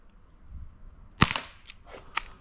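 An airsoft gun under $100 fires a few sharp, close shots, one crisp snap followed by a couple of lighter cracks spaced apart over quiet background.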